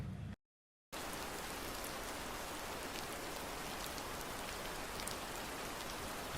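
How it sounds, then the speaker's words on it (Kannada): Rain falls steadily in a dense, even hiss of drops hitting surfaces, broken only by a moment of silence at the very start. "ಮಳೆ ಬರ್ತಿದೆ"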